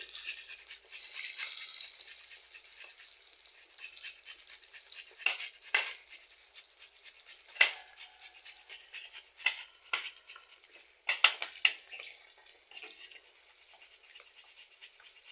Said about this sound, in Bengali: আলুটাকে এখন আমি এই শিলার সাহায্যে গেট করে নিচ্ছি